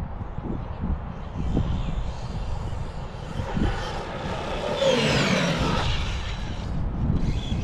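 A Traxxas RC car drives in and passes by outdoors, its motor whine rising to a louder rush midway and then easing off, over steady background noise.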